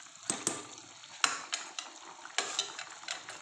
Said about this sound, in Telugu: ఇప్పుడు ఒకసారి కలిపిసుకొని